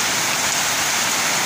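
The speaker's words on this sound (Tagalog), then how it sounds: "nabutan na naman kami ng ulan" Steady rain pours down outdoors, a dense, even hiss of drops falling continuously with no pauses or talk.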